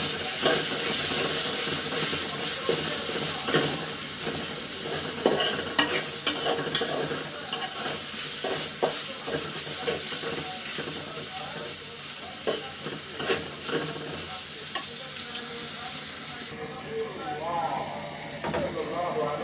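Cumin, ginger and green chili pastes frying in oil for a homestyle chicken curry, a steady loud sizzle with repeated spoon scrapes and stirring, while a person talks over it.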